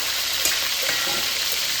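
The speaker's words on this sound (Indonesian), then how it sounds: "Kita goreng ikan nilainya dulu" Brief steady sizzle of tilapia frying in oil, close crackling hiss with a small pop near the start, no voices.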